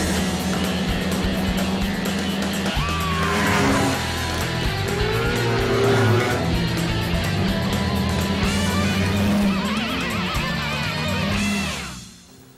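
A snowmobile runs along groomed, tree-lined snow trails in Minnesota's Savannah Portage State Forest, its engine droning loudly with pitch that rises and falls through curves before fading out at the end.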